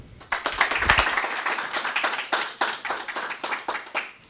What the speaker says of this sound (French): faites un tonnerre d'applaudissements pour accueillir